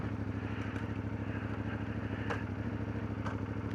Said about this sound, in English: it'll move under its own power just by letting the clutch out